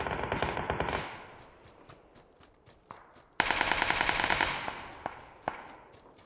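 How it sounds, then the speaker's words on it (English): Distant gunfire from bots fighting in PUBG: bursts of rapid automatic fire and scattered single shots rising and falling, fairly faint and far off, with no talking. "Listen to this gunfire in the distance. This is clearly bots fighting."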